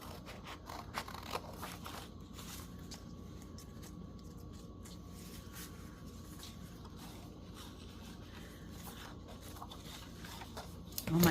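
Scissors trimming a wallpaper tag: quiet, close snips and papery rustles repeat in an uneven rhythm, with a louder shuffle at the very end.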